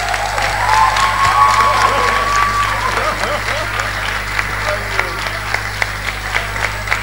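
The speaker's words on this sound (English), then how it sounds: "A round of applause for her." Conference audience in a hotel hall claps steadily with scattered cheers, a continuous crowd roar with a whistle-like tone early on, lasting several seconds.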